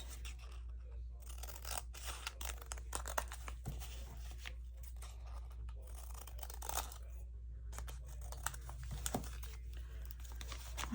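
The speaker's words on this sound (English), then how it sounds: "And then you need to cut the top or bottom just a smidge." Scissors snipping paper for a handmade journal, a series of quiet, crisp cuts and rustles close by, irregular in rhythm, over a low steady background hum.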